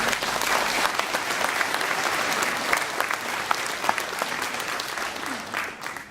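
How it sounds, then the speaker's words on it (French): Audience applause at a mayor's New Year address in Marcigny, steady dense clapping from a large indoor crowd, sustained and loud throughout before tapering slightly at the end. "Là aussi, on peut les applaudir."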